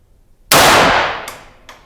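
A single loud, close .22 gunshot from CCI Mini-Mag ammunition fired over a chronograph, a sharp crack with a decaying tail, followed by two fainter echoing reports.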